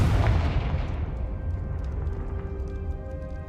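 A deep, booming explosion from the Confringo blasting curse in Hogwarts Legacy hits at once, then rumbles and decays slowly into a fading tail with faint crackles.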